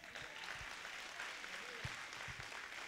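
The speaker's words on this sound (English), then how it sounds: "Hey, give the Lord a clap." Congregation applause filling a church sanctuary during an evening service, a steady broad wash of many hands clapping at moderate distance, faint and continuous with no clear pauses.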